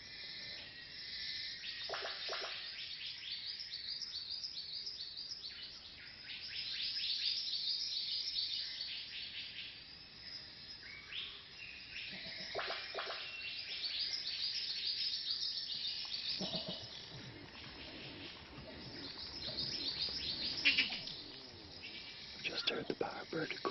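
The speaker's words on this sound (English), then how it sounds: "Just heard the bowerbird call just to the right of the hide." A bowerbird calls just outside a bird hide in the wild, with scattered soft chirps and whistles at a moderate distance over a steady background hiss, and faint low voices now and then.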